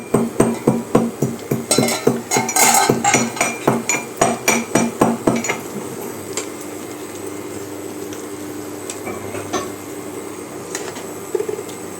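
Rapid metallic clinks and scraping from a spatula stirring raw mango and jaggery in a metal wok for several seconds, then settling into a steady low cooking hiss.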